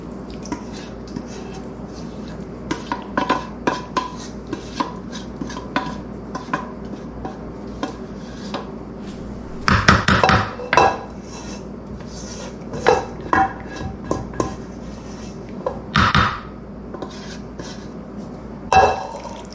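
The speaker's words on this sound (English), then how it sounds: "I'm going to put it in the pans." Utensils scrape and clink against metal pans in irregular bursts as cake batter is put into pans, with some sharper clatters standing out over a quiet kitchen background.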